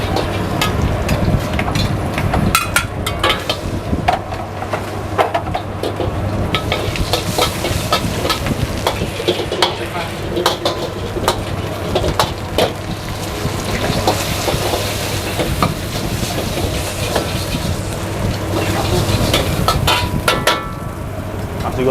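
Busy stir-frying in a wok at a busy food stall: continuous loud sizzling with frequent sharp metallic scrapes and clanks of a spatula, steady throughout.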